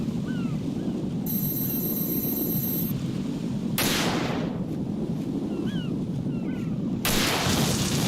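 Gunfire in Metal Gear Solid 2, two sharp, loud bursts a few seconds apart cutting through steady wind and engine rumble, with faint electronic chirps between.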